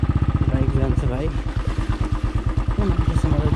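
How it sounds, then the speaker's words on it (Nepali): A motorcycle engine thrums steadily up close with a fast pulsing beat, while a person talks over it. "बाइक जान्छ भाइ"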